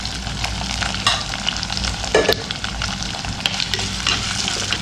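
About ten small shallots, chopped, sauté in hot oil for Kerala mackerel curry. The close, continuous sizzle comes with repeated stirring scrapes and a few sharper clinks of the spoon, and nobody speaks.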